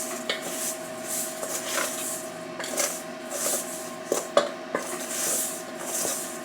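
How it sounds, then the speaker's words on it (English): A utensil scrapes and clinks against a bowl while salt and peppercorns are stirred into a chicken nugget mixture, giving close, irregular rubbing strokes with occasional sharper taps. "we're going to stir all that up so everything gets all incorporated"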